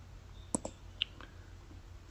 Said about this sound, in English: I'm gonna click on save